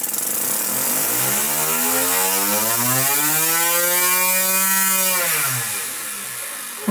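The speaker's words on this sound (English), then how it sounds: "let's see how this flywheel runs." Lego air-powered engine fitted with a 3D printed flywheel spins up to a loud, steady whirring drone whose pitch climbs and holds high, then drops sharply as it winds down near the end; no talking.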